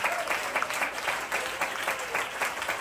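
A church congregation applauds the Lord during a Sunday service, with a continuous, fairly loud burst of many hands clapping and a few rhythmic swells that hold steady for the whole stretch.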